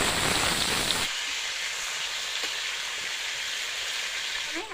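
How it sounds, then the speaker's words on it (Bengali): Pointed gourds (potol) fry one at a time in hot oil for a Bengali chingri potol dish, giving a loud steady sizzling hiss that starts with a sharp crackling burst. "একটা একটা করে পটল ভেজে নিচ্ছি"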